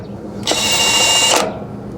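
Milwaukee 2962 mid-torque 1/2-inch impact wrench in automatic mode runs in one steady, loud, high-pitched burst of about a second, starting and stopping sharply, with no talk over it.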